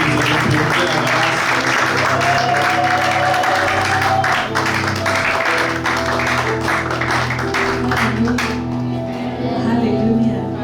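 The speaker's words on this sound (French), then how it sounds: "Affichez vos applaudissements pour acclamer les enfants" A church congregation applauding, loud continuous clapping mixed with crowd noise and voices, thinning toward the end.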